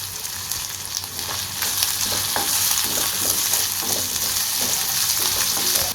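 Curry leaves and crushed roasted dried vathal sauté in a pan for rasam, a loud continuous sizzle broken by repeated scraping stirs of a spoon against the pan, close and without talk.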